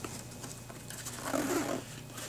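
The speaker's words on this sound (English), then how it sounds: "Zippers roll really nice and easy" A zipper slides along a side pocket of an MVP disc golf bag, a short, quiet, close rasp heard alone without talk.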